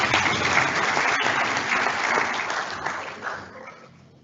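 Applause from an audience at a Kenya School of Law orientation, a full, steady round of clapping from a large crowd that tapers off toward the end.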